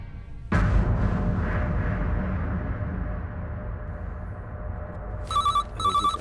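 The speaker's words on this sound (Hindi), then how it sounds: "सर फोन बज रहा है" A telephone bell rings twice in short, bright bursts near the end, after a stretch of low rumbling background noise, with no one speaking.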